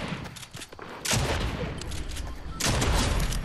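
Bursts of video game gunfire erupt in two loud broadband volleys, the first near one second and the second near two and a half seconds, over a steady noisy game backdrop.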